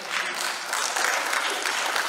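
A church congregation clapping hands together steadily during a worship service, dense and continuous applause filling the room with no voices standing out.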